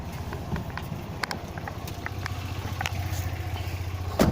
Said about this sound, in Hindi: तो देख सकते हैं आप, ये मेरा इंजन इस वक्त स्टार्ट और इसकी आप साउंड सुन पा रहे